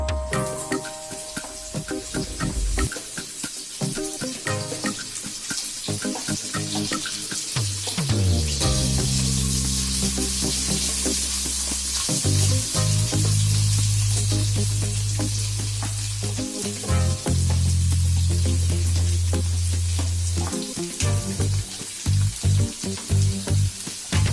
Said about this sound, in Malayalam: ഞാൻ ബാക്കി വെജിറ്റബിൾസ് ഈ ഓയിലിലേക്ക് ഞാൻ ഇടുകയാണ് ഓരോന്നായിട്ട്.